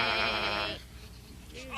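A really big sheep lets out one long, loud, wavering bleat close by, then falls quiet before a faint sound at the end.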